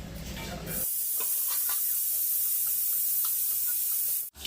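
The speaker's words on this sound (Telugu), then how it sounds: "మూత అయితే పెట్టి విజిల్ అయితే పెడతానా" A pressure cooker cooking mutton curry vents steam in a loud, continuous hiss that starts abruptly and holds steady close by for several seconds before cutting off.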